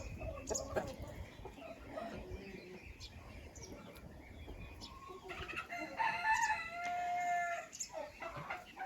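Farmyard chickens clucking near and far, with a rooster crowing loudly toward the end and faint bird chirps in the background.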